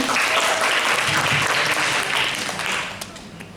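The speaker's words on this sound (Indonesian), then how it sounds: "Tepuk tangan dulu, tepuk tangan." A seminar audience claps steadily for about three seconds, a dense, loud wash of hands that thins out toward the end.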